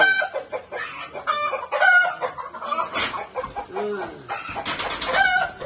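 Chickens cluck busily close by, with a rooster's crow mixed in, a lively run of overlapping squawks and clucks with no talking.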